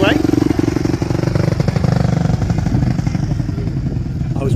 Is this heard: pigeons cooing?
no